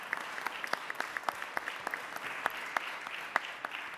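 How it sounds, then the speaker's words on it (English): Audience applause at a public meeting in a hall: steady, moderately distant clapping from a crowd of many hands, continuous throughout with no voices over it. "I think you guys also deserve a very big round of applause as well."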